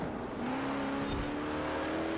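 Another car's engine drones steadily from behind the player in Forza Horizon 4, its pitch climbing slightly under the player's own engine noise, with no talking.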